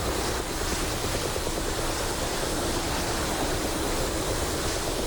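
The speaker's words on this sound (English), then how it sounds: "The US Air Force's F-15. And off he goes." An F-15 fighter jet takes off at a Las Vegas, Nevada air show in the DCS flight simulator game, heard as a loud, steady broadband engine roar that holds constant throughout.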